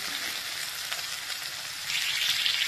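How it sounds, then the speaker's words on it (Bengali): Potatoes and onions fry lightly in a pan with a steady, close sizzle that swells a little louder toward the end. No one speaks. "হালকা ভাজা ভাজা করছি"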